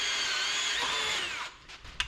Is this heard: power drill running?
yes